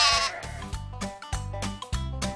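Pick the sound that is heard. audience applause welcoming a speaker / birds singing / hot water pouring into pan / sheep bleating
sheep bleating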